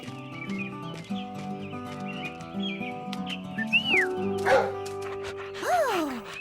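A dog barks a few times in an animated cartoon, short yips layered over a bright musical score with sliding whistle-like effects.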